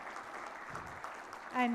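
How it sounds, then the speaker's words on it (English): An audience claps for awardees at the Yellow Dot Award 2023 ceremony, a steady wash of applause filling the whole moment before a voice begins speaking at the very end. "can I have a 10-second loud clap for all of them?"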